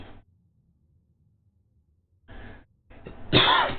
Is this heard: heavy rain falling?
no